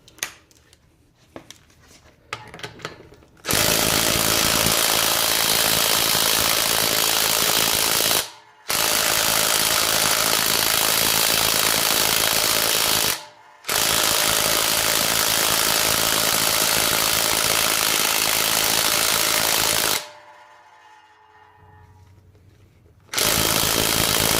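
A Harbor Freight Earthquake XT 3/8-inch 20V cordless impact wrench with a 21mm socket hammers loudly at nuts in long sustained bursts, broken by brief pauses, with quieter handling noise before and after.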